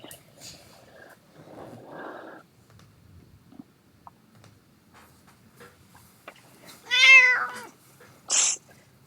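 An angry cat lets out one loud drawn-out meow followed by a short sharp cry, heard close up after faint quiet shuffling and low murmuring in a room.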